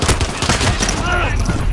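Dense rapid gunfire from a weapon in a shooter video game comes as a loud, continuous volley of overlapping shots over a short burst, mixed with game noise and a trace of voice.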